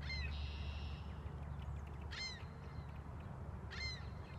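Outdoor birdsong on a warm, sunny day: a few short, bright chirps and trills come in spaced bursts over a steady low background rumble, faint and somewhat distant.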